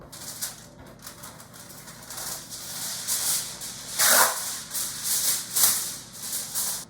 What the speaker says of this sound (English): So, you're going to need to cover this in foil.